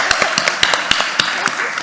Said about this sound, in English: Could you all join me in a round of applause for Angel?